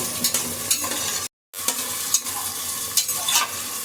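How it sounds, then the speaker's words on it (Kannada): Chopped ivy gourd and onions frying in a pan, a close steady sizzle with sharp stirring scrapes at irregular intervals, briefly cut to silence midway before the frying resumes, no voices. "ನೋಡಿ ಈಗ ಈ ಥರ ಕ್ಲೀನಾಗಿ ಫ್ರೈ ಮಾಡಬೇಕು"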